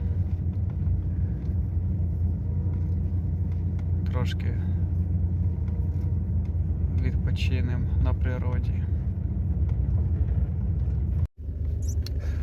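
A car drives along a road, its steady low engine and road rumble filling the cabin throughout while someone talks over it.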